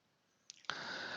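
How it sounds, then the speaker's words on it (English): Mouse clicks while saving a ServiceNow client script on a computer, a few faint close clicks followed by a steadier, louder hum of activity. "And I'm clicking on save."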